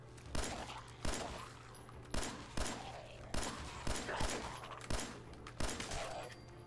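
Gunshots ring out in the video game Fallout 4, about eight loud, sharp reports fired at a steady, unhurried rhythm roughly once per second, each with a short echoing tail over a low background hum.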